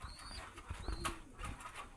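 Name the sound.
pigeon cooing in its loft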